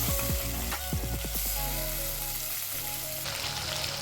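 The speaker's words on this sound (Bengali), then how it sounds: "এই রান্নায় মাছ কড়া করে ভাজা যাবে না, তাই এপাশ ওপাশ একটু উল্টো পাল্টা করে হালকা ভেজে নিতে হবে" Small tangra catfish lightly frying in a pan, turned from side to side, giving a steady close sizzle broken by a few sharp clinks and scrapes of a utensil early on.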